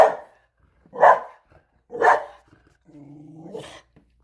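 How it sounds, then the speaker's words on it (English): A dog outdoors near a deck barks three times in loud, evenly spaced bursts, then lets out a lower rumbling growl, all close and without any voices. "My dog's raising hell."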